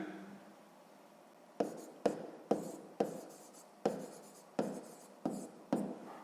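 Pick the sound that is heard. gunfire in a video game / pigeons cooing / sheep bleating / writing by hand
writing by hand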